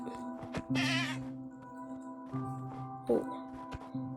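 A goat in Minecraft bleats in short wavering cries over a steady background hum, with a second brief bleat later and a voice murmuring faintly.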